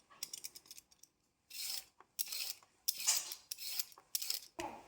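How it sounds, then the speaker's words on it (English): A knife slicing through a whole tomato on a board, a series of close, crisp cutting strokes in short uneven bursts with brief pauses between, no voices. "I'm going to cut 1 full tomato"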